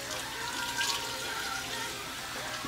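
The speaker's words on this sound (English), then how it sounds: "Let me put some water on my neck," Water splashed onto the neck during a skin care routine, a brief close wet trickle and splatter lasting a couple of seconds with no speech.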